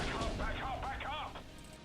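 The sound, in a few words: artillery fire in Steel Division: Normandy '44 video game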